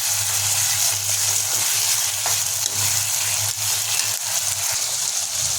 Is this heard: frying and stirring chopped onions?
yes